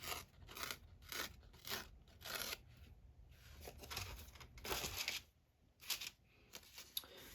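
Paper is ripped by hand for a junk journal, with a run of sharp tearing bursts in irregular rhythm separated by short pauses, close and fairly quiet, with no speech.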